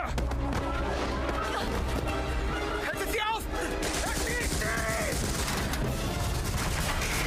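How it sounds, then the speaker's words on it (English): Rapid, dense gunfire and crashing impacts from a video game trailer, loud and continuous, mixed with shouting voices and dramatic score. "Those guns actually shoot really fucking fast."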